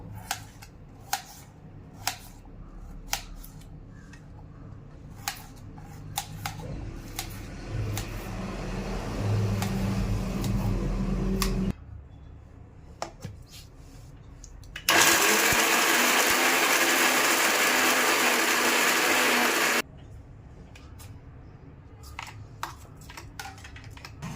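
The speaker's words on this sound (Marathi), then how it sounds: "असं बारीक बारीक बारीक कट करून घेतलं मी सगळे खोबरे आणि मिक्सरला लावून घेतलं" A kitchen mixer grinder whirs through finely chopped coconut in a loud, steady burst lasting several seconds, with a shorter run and quieter kitchen clatter before it.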